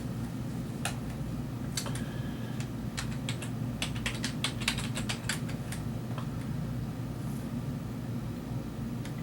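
Quick bursts of clicking keystrokes on a computer keyboard while a file name is typed, irregular taps over a steady low hum, close and moderately quiet, no voices.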